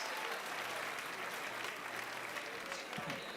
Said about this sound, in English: getting a huge clap for the audience